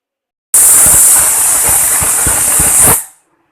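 A pressure cooker of mutton pepper gravy lets out a loud, steady hissing whistle of steam for about two and a half seconds before cutting off sharply. Faint rhythmic thuds sit underneath.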